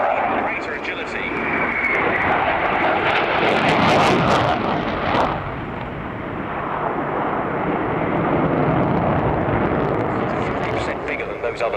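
A Ukrainian Sukhoi Su-27 Flanker jet with Lyulka (Saturn) AL-31F turbofan engines roars loud and continuous, swelling to a peak around four seconds and again later as it passes.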